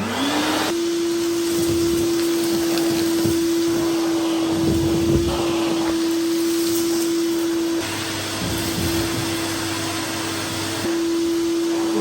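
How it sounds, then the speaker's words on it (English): A Vax 3 in 1 vacuum cleaner with a clear bin, pleated filter, pneumatic floor tool and 1300-watt motor runs close by, a loud steady whine with a constant tone that dips slightly partway through, with no talking. "Let's see how well the Vax does with its clear bin and pleated filter and the pneumatic floor tool with 1300 watts of power."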